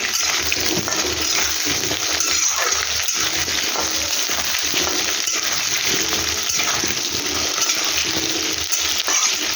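Potatoes fry in a pan over a raised gas flame for a pea-shoot and potato dum, giving a steady, close, fairly loud sizzle with faint stirring scrapes throughout and no talking.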